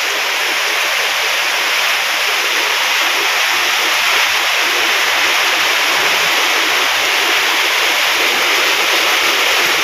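Strong wind and rain sweep over rural farmland in a dense, unbroken roar that holds at a loud, even level throughout, with no one talking.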